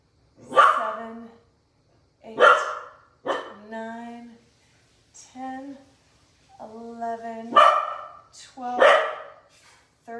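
A puppy barks repeatedly at home while roofers work next door, with loud, close yaps and whimpering yips in uneven bursts separated by short pauses.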